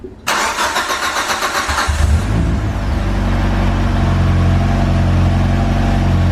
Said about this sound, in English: what I'm gonna go ahead and do now is start the car